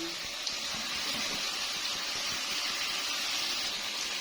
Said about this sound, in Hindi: ये इसमें 1 गिलास ये पानी डाल के